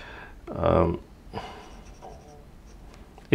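A Platinum Procyon fountain pen with a medium nib scratches across paper in one firm stroke near the start, followed by fainter, sparse pen movements and a sharp knock at the very end.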